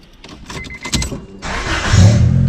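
A car engine is started during an SRS airbag warning light reset: quiet clicks and shuffling give way to a sudden loud, broadband engine roar that builds and holds close by.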